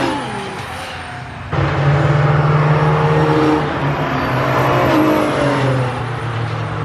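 A car on a lap of the MSV race track roars past close by, its engine rising sharply in pitch under acceleration before settling into a loud, sustained drone.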